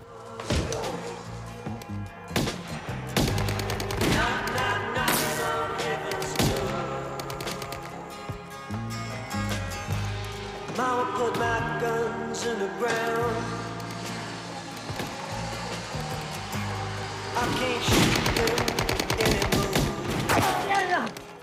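A film shootout sequence with bursts of gunfire and heavy thumps ringing out over a dramatic music score, loud and irregular throughout.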